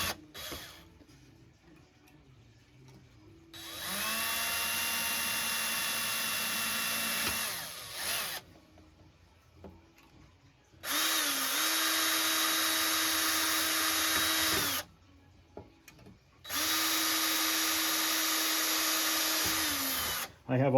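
A power drill whirs loudly in three sustained bursts, each several seconds long, with short pauses and faint handling noise between them.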